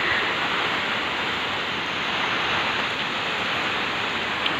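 Heavy typhoon rain from Typhoon Ulysses falls in a steady, loud, unbroken hiss that fills the whole moment. There are no pauses or distinct drops.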